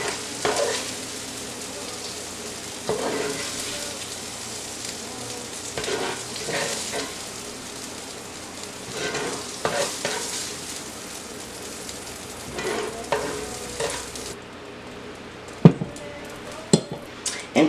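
Onions go into sausage frying in a cast iron pan, bringing a loud, continuous sizzle broken by utensil scrapes and clatters. The hiss drops away near the end, leaving a few sharp knocks.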